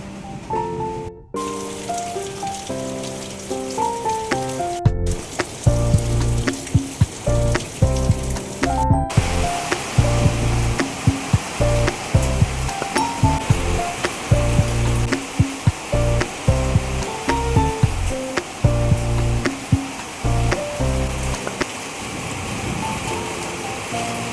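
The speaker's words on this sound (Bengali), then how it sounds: "তারপরে কিছুক্ষণ পরই শুরু হয়ে গেছিল বৃষ্টি" Steady rain pours outside on a cloudy, windy day, a continuous dense hiss that runs the whole length, with music-like tones and beats layered over it.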